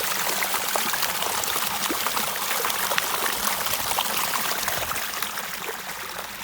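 A mountain stream flowing into a waterfall, broad steady rushing and splashing water that continues throughout at a fairly close distance, with no voices over it.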